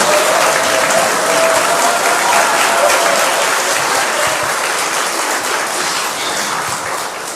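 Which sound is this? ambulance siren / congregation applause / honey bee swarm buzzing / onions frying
congregation applause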